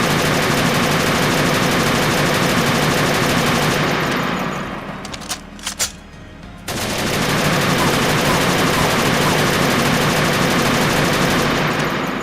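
AK rifle fire in a video game, a dense, loud continuous blast of automatic shots that briefly drops away mid-stretch before resuming.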